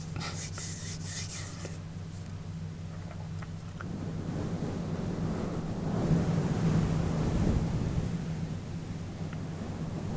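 Fuzzy windscreen cover on a microphone being rubbed, a continuous close, soft rushing wash that swells louder midway like surf, with a low steady hum beneath and no talking.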